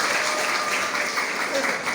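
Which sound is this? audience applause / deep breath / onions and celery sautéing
audience applause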